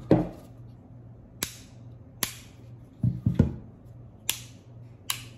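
Sharp metallic clicks come from the mechanism of a Staccato C2 DPO pistol. About six crisp, isolated snaps sound up close with irregular gaps between them, over a faint background hum.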